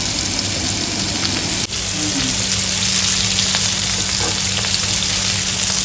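A whole boit fish fries on a large tava with a loud, steady close-up sizzle and spattering, broken by a brief dip before the frying noise carries on.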